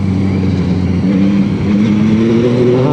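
A 2021 Yamaha MT-09 motorcycle accelerates out of a corner with a loud, close engine note whose pitch climbs steadily as it revs.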